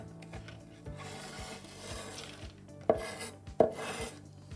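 Chicken meatball mixture with corn flour, ginger and onion being mixed by hand in a bowl, giving soft steady rubbing and squishing, close and quiet, with two sharper knocks near the end.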